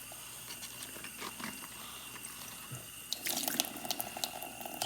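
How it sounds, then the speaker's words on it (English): Water runs from a kitchen tap over lettuce leaves being separated for lettuce wraps, a steady close splash that grows louder near the end. "Just gotta get some water in between, make it easy to peel off."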